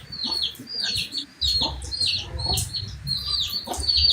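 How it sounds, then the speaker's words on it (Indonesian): Chickens in a coop cluck and chirp close up, a busy run of repeated high calls and low clucks that continues loudly throughout. "Kandang ayam lagi diskusinya."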